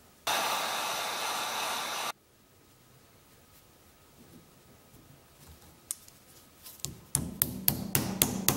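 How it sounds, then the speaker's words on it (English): A hickory wedge is hammered into the eye of a True Temper axe, giving a run of about six sharp, evenly spaced metallic strikes near the end, after an earlier burst of steady rushing noise and a quiet stretch. "for this one, I'm going to ram a hickory wedge in there"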